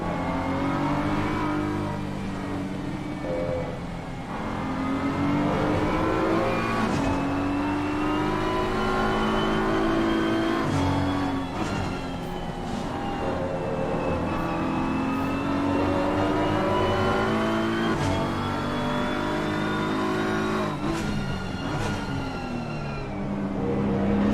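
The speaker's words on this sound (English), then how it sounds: "That's a whole lot of turbo noise." Race car engine in a racing sim at Hungaroring, loud and continuous, revving up and down with heavy turbo whine and shifting pitch across the whole stretch, no talk over it.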